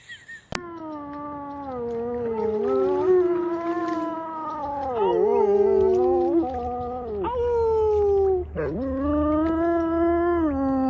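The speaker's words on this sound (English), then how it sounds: "So don't bark at me or growl at me, okay?" A dog at home lets out a long, continuous run of drawn-out howling and moaning vocal sounds that rise and fall in pitch, close and loud with no other voices.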